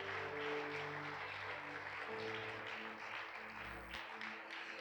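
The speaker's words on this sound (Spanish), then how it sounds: "denle un aplauso a Dios" A church congregation gives applause during a sermon, a soft, diffuse wash of clapping heard under sustained organ or keyboard chords, ending with an abrupt cut as the music drops away.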